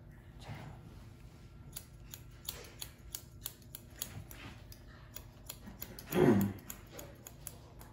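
Barber's scissors snip through hair while shaping a men's two-block disconnection cut, a series of close, crisp metallic clicks in an irregular rhythm, with a brief louder rustle near the end and no talking.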